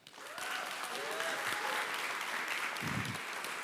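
Audience at a panel discussion on vinyl collecting and music breaks into steady, full applause that starts abruptly and continues evenly throughout, with a brief low thump near the end and no clear talking.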